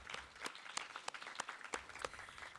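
A small audience at an arts-in-education forum panel gives scattered, thin applause, individual claps standing out in an uneven rhythm at moderate distance, with no one talking.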